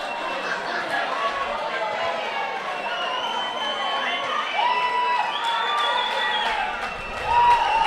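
Large crowd at a rugby league grand final between the Dragons and Souths, a steady roar of cheering and chatter that swells near the end, with a commentator talking over it.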